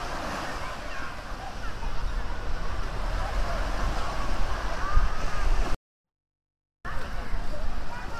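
Ocean surf rolls onto a beach in Sri Lanka near Hikkaduwa and Galle, making a steady, loud roar of breaking waves mixed with wind buffeting the microphone, cut off by a brief silent gap before it resumes.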